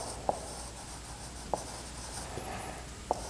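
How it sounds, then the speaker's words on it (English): Pen writing a sentence by hand on paper, faint continuous scratching with a few soft taps from the pen striking the page, close and quiet against a steady background hiss. "As I write a sentence"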